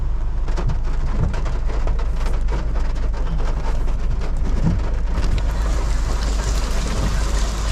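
Heavy rain drums steadily on a Nissan Terra VL Sport driving through Makati, a dense patter over a constant low engine and road rumble inside the cabin.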